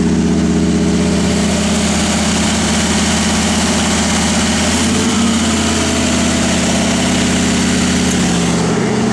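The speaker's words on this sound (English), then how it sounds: "You can go ahead and fire it up, Jordy." A 1953 Ford F100 truck engine idles with a steady low rumble and even vibration, loud and close throughout, with no one talking.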